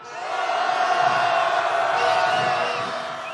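A large crowd of candlelight protesters on a street march toward Gwanghwamun lets out a sustained, loud roar of shouting and cheering that swells and holds steady throughout.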